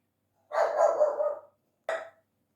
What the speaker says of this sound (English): I think he's finished barking.